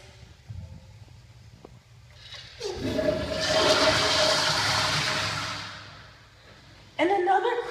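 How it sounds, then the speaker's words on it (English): A Crane Placidus toilet in a high school restroom flushes with a loud, sustained rush of water that swells and then tapers off over several seconds, with faint murmuring before it and another burst of noise at the end. "This is going to be a very long flush."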